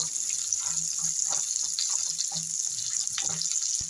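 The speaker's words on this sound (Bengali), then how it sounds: "এবার আমি জল দিয়ে দিচ্ছি" Water poured into a pan of lightly fried onion and green chilli makes a continuous close, loud hissing rush with faint bubbling underneath, steady throughout with no voices.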